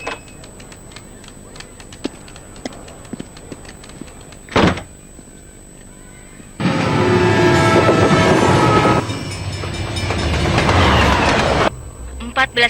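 A rail car rumbles and rattles loudly for several seconds after a thud like a door, with quieter clicks and hum before it and no talking.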